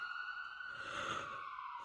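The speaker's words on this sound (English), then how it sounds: "is awakened by a distant sound of sirens" A siren wails steadily in the distance, its tone rising and falling slightly, faint and unbroken with no voices.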